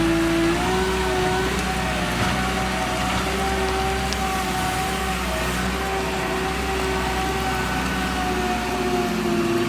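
A JCB digger engine runs steadily at a constant low drone with a faint whine on top, close and continuous for about ten seconds with no talking.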